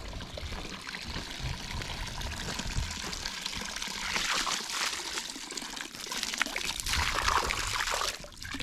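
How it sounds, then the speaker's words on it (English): Water left running into a cattle water trough, a continuous splashing pour and trickle that stays fairly steady and close for several seconds, with no talking. "Someone forgot the water on."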